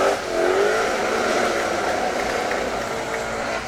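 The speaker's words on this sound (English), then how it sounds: "And Rutherford, you can hear that supercharger really getting to work." A supercharged drift car revs hard as it runs close to the wall during pro-am qualifying at the British Drift Championship in Birmingham. The engine roar is loud and sustained, with a rising whine early on.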